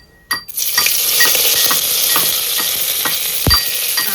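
Curry leaves hit hot oil in a pan for a Kerala-style fish curry, bursting into a loud, steady sizzle after a brief quiet start, with a few sharp spatters and a clink near the end.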